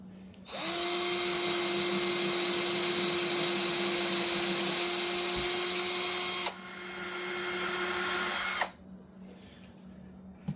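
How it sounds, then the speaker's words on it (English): A power drill whines steadily for several seconds while drilling holes in a pizza press platen, pitch dropping briefly before a second shorter burst, then it stops; close and loud, no talking. "So it's just a matter of drilling the holes."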